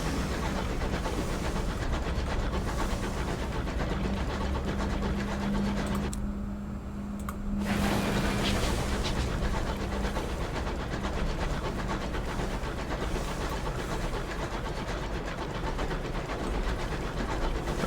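Damaged locomotive of a space train in the video game Sunless Skies, a dense continuous mechanical rumble and rattle with a brief dip near the middle before the churning resumes.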